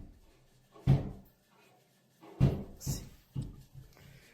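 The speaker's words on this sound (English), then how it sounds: "On another night, something starts pounding on her door." Heavy knocks pound on a house door at night: one isolated thud, a pause, then a quick cluster of three or four blows, close and loud against near silence, with no talking.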